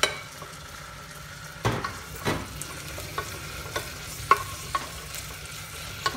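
Beans and carrots fry in a pan for vegetable pulao, a soft steady sizzle with several sharp scrapes and clinks of a stirring utensil against the pot spread through, close by and with no talk.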